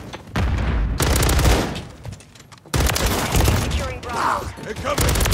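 Sustained bursts of automatic and single-shot gunfire from Call of Duty: Modern Warfare 3 multiplayer, loud and close, with heavy booming hits, brief lulls between volleys and a voice talking over parts of it.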